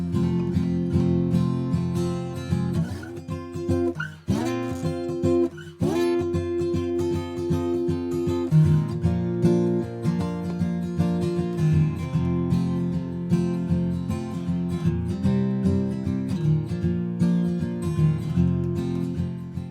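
Acoustic blues guitar played solo, with plucked bass notes and bent strings in a loose, rolling rhythm, close and fairly loud.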